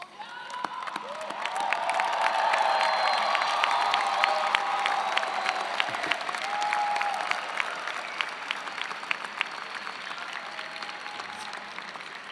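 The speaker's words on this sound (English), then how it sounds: "give a big round of applause to your families and friends" Commencement audience at the UT Austin Cockrell School of Engineering gives a big, sustained round of applause with scattered cheers, swelling after a second and holding steady throughout.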